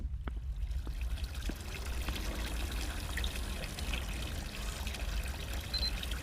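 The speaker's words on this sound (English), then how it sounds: "I heard water in the kitchen." Water runs steadily in a kitchen inside a video game, a faint continuous trickle and pour from a tap with small drips and clicks scattered over the flow.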